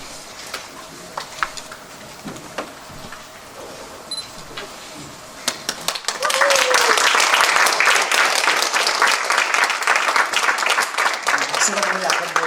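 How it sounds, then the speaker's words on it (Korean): A congregation at a Korean church ordination ceremony applauds. Scattered claps and quiet rustling give way to a sudden burst of full, dense clapping that holds steady to the end, with some voices underneath. "큰 위로의 박수, 축하의 박수를 해주시기를 바랍니다"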